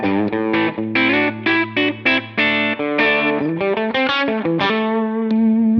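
A Les Paul electric guitar plays a melodic run of single notes and chords through a Helix Essex A30 VOX-style amp model, bright and slightly driven, loud and alone.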